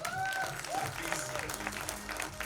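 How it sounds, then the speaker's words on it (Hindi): An audience at a trailer launch event for The Vaccine War applauds as actor Nana Patekar takes the stage, a steady clapping wash heard under an announcer's voice and faint tonal background sounds. "नाना सर के लिए जोरदार तालियां हो जाए प्लीज"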